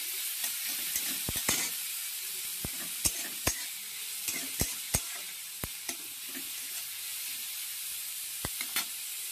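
Chopped garlic hisses and sizzles in hot oil in a pan, a soft continuous fry punctuated by sharp crackles and pops scattered throughout.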